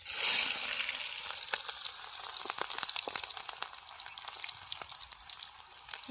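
Garlic and onion hit hot oil for a fish curry, a bright hiss that flares at first then settles into a steady close sizzle with light stirring taps.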